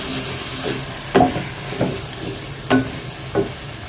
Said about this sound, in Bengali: এখন সবজিটা একটু ভালো করে কষাবে